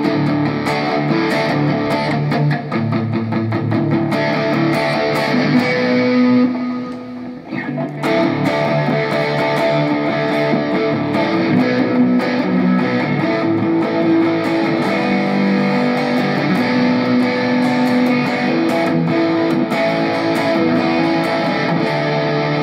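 Gretsch G5210T Electromatic electric guitar played loud through a distortion effect, sustained fuzzy chords ringing continuously with a brief dip partway through.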